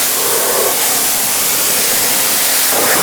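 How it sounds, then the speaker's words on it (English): A loud, continuous hiss of cleaner sprayed on a C8 car's tire and wheel, close up and unbroken for a few seconds, with no talking. "Spray the tire down, spray the wheel."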